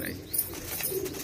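A brief, soft cooing from Madrasi pigeons kept by a Kolkata seller, heard close and low against faint background noise.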